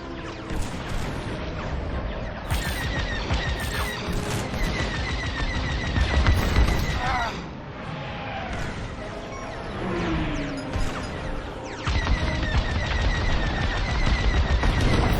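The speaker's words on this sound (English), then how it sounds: "Enemy fire! Taking fire!" Enemy starfighter fire in the Star Wars: Squadrons video game, rapid blaster bursts and crashing impacts rattling on for many seconds, loud and busy, with a short lull midway.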